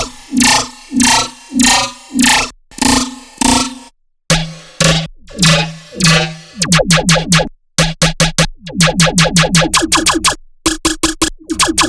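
Repeated bursts of a gritty, zapping dubstep laser bass synth hit in a steady rhythm, each note with a sharp laser-like attack, loud and alone with short gaps.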